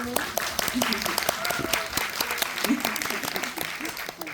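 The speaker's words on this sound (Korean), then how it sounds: "박수" Audience applause fills a cinema hall during a post-screening guest talk for the film Virus at CGV Yongsan I'Park Mall, a steady, dense clatter of many hands with voices talking over it throughout.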